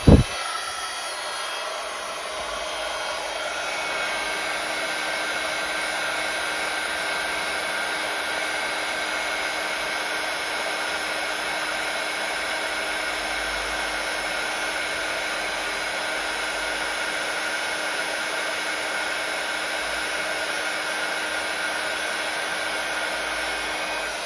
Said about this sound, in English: So I'm going to be using my heat tool now.